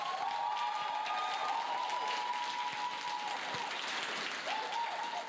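A crowd applauds steadily throughout, a dense wash of clapping that holds at an even level, with a faint sustained tone underneath.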